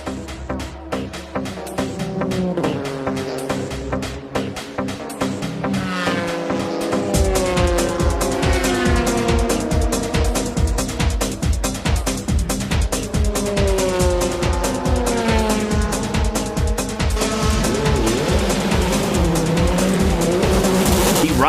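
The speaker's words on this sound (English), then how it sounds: "the Supra gets back on the track in a hurry" Supra race car in the Japanese GT Championship (JGTC) accelerating along the track, its engine a loud, rapid pulsing drone rising through gears alongside swelling music, close and continuous for the whole stretch.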